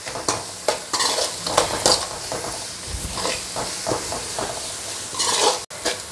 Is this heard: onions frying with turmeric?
yes